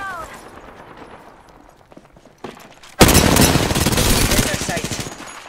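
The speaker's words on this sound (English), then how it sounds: "They're shooting at me" Rapid automatic gunfire in the battle royale game Apex Legends bursts in loudly after a quieter stretch. Sustained, dense volleys of shots continue to the end.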